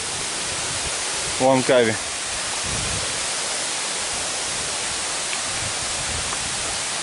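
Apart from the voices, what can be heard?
Durian Perangin waterfall, Langkawi, Malaysia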